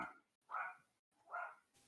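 A dog barks three times, each a short, fairly close yelp spaced about a second apart, with near silence between them.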